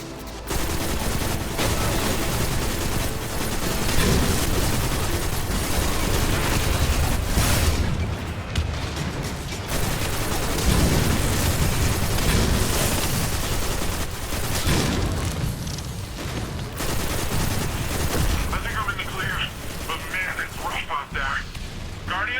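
Rapid automatic gunfire and booming explosions in Destiny 2 Lightfall, loud and nearly continuous, with dense bursts throughout and brief lulls.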